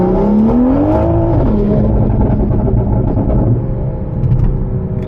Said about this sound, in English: Let's do a little second gear pull.